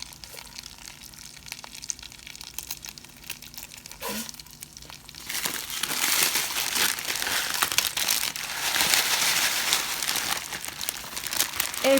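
Dry ramen noodle pieces crushed for an Asian ramen salad give off a steady crinkling, crunching rustle, quieter at first and then louder and denser, continuing close up without speech.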